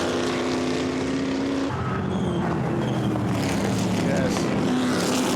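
V8 race cars, Ford GT40s, Lola T70s and McLarens, racing two abreast through St Mary's in the 2014 Surtees Trophy, a loud sustained multi-engine roar with pitch sweeps as cars pass, with commentary talk over it.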